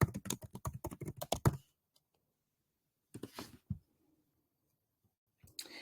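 Typing on a computer keyboard, a quick run of close key clicks for about a second and a half, then silence, a short second burst of keystrokes, and a few more taps at the end.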